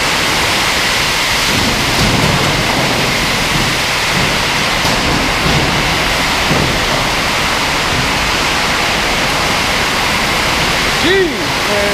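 A thunderstorm with heavy rain pours down steadily in a dense, loud roar, with low thunder rumbling underneath and one brief tonal chirp near the end.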